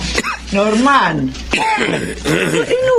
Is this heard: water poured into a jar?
no